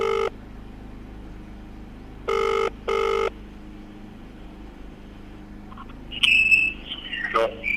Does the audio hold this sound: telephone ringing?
yes